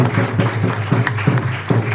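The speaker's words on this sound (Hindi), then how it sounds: "आप उनको तालियों के साथ सम्मानित कीजिएगा" Short burst of audience applause honouring the sponsor at a devotional discourse, clapping pulsing over a steady low hum in the hall.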